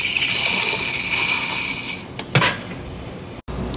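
A coffee machine steam wand froths whole milk in a steaming pitcher with a steady hissing, gurgling rush. The tone shifts as the pitch rises, then two brief sputters and a short cutoff follow before the hiss resumes.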